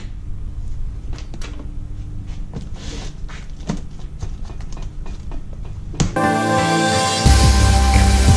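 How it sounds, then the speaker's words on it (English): A torque converter box cover on a doodlebug minibike is worked open with loud, close metallic clicks, knocks and rattling. The clatter gives way to a steady mechanical hum with a ringing metallic tone near the end. "I'm gonna open up this torque converter box, find out just exactly what's in it."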